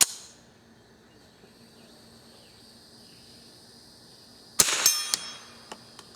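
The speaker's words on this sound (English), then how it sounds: "I'll point the gun downrange and you'll see the action close." A Savage-JC Higgins .22 rifle's action snaps shut with one sharp metallic clack, followed by a few lighter ringing clicks, after several seconds of near silence.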